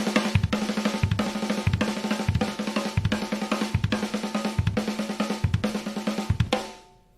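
Drum kit playing a 6-2 pattern split between snare and kick, a fast steady run of crisp strokes with regular heavy accents about every two-thirds of a second, close and loud, ending in a short decaying ring.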